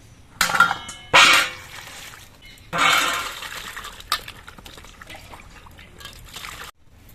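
Cut pointed gourds (potol) are being washed in water, with splashing, dribbling pours and bursts of sloshing between quieter moments, plus a few light clinks of a bowl.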